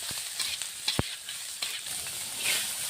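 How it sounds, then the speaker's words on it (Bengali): Soybean chunks frying with onions in a pan give off a steady, moderate sizzle, broken by a few sharp clicks and scrapes from stirring. "এখানে এই সময় সোয়াবিনটা দিয়ে দেব। সোয়াবিনটা একটু ভেজে নেব"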